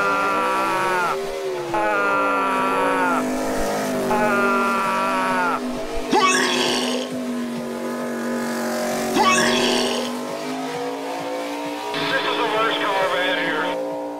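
A race car engine sound effect revs in several sustained bursts, its pitch rising and falling with brief gaps between, loud and close over a low drone, with speech woven in.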